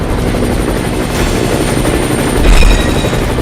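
A Mi-17 V5 transport helicopter flies overhead with a steady, loud rotor thump and engine whine throughout, swelling briefly near the end.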